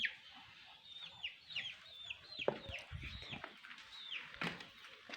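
Chickens and a rooster cluck in a home garden, with a steady run of close, overlapping calls and short squawks. No one speaks.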